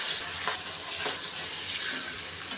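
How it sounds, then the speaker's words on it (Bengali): Fish pieces fry in hot oil in a wok with a dense, close sizzle, steady throughout, with a few brief spatters and no voices. "এখন আমি মাছ দিয়ে দেব।"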